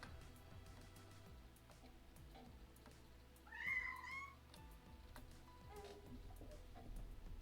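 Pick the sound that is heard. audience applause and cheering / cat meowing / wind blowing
cat meowing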